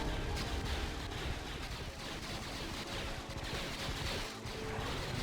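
Star Wars strategy game battle with an abandoned turbolaser tower being destroyed, dense rumbling explosions and blaster fire running steadily and loud across the whole stretch, no distinct single blast.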